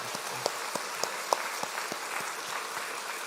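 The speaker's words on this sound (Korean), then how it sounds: "우리 목사님 너무 감사한데 우리 박수로 우리 감사 표시를 했습니다" A church congregation applauds to thank the pastor at a revival meeting, a quiet, sparse spatter of scattered individual claps with a few sharper ones standing out.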